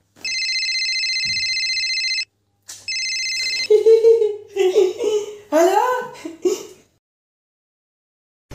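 A telephone rings in two long, bright electronic bursts with a short pause between them, followed by people laughing and giggling.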